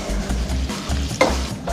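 Food frying and sizzling in several pans in a busy professional kitchen, a steady close sizzle with scraping and stirring noises and a brief clatter partway through.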